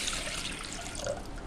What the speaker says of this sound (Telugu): ఒక చెంబున్నర నీళ్ళు పోసుకోవాలి